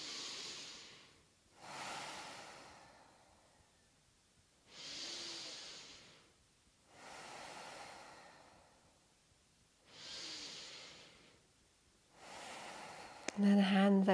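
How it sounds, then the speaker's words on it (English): Slow, deep yoga breaths in a guided pranayama with arms raised overhead, about five long airy inhale-exhale swells evenly spaced, close and soft, alone without talk. "taking three deep life-affirming breaths here."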